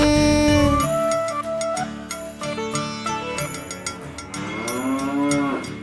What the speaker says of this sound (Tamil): வெள்ளை அழகாய் இருக்கிறது பசுமாடு பசுமாடு என் பசுமாடு